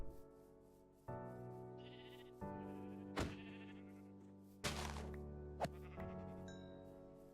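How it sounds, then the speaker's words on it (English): Sheep in the Minecraft video game bleat several times in short, clear calls separated by brief pauses, with a few soft thumps in between and no speech. "And more sheep."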